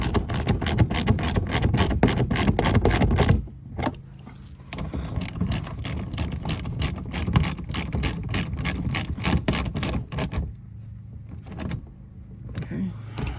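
A ratchet with a 10mm socket snugs down plastic fasteners underneath a 2024 Toyota Prius Prime during an oil change, making loud bursts of rapid close clicking with brief pauses between runs.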